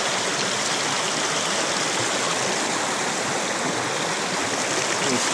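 A small creek flows steadily outdoors, its dense, even rush of water filling the whole stretch without pause, close and fairly loud with no voices over it.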